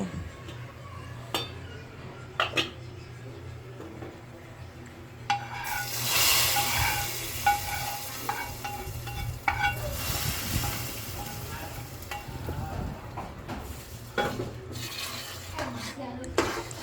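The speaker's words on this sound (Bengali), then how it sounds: "রসুন আর পেঁয়াজটাকে ভালোভাবে নেড়ে চেড়ে ভেজে নেব যতক্ষণ না ব্রাউন কালার হয়ে আসে।" Garlic and onion stir-fried in a pan while cooking bottle gourd with shrimp: scraping, clinking utensil stirs and a soft sizzle, up close, steady over a low background hum.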